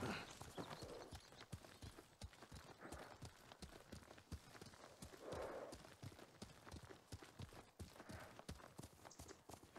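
Horse hooves clip-clop at a steady trot in Ghost of Tsushima, a rapid, regular stream of close hoof strikes that runs the whole stretch over a faint game ambience.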